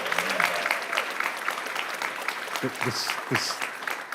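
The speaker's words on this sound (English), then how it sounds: "Round of applause for Jay." Audience applause at a school board meeting, a steady crowd clapping throughout with a few low thumps and brief voices near the end.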